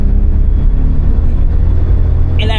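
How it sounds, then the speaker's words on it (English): Daihatsu Terios on the road under hard acceleration, a steady loud engine rumble and drone filling the cabin with a faint high turbo whine riding on top, no talking. "I hope you can hear the turbo whine"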